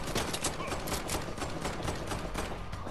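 Rapid, dense bursts of video game gunfire crackle continuously, sharp and steady, with no clear pauses and faint voices underneath.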